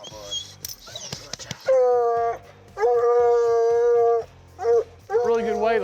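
Hunting dogs howl at night in long, loud drawn-out bursts, several voices overlapping, with shorter yips and whimpers between them and people talking briefly at the start.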